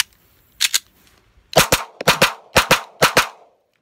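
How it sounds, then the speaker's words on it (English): A Beretta PX4 Storm 9mm compact pistol fired outdoors: one loud, sharp shot, a brief pause, then a quick string of five evenly spaced shots, each crack loud and close, followed by silence. "It's very rare to take a gun out of the box and just shoot like that."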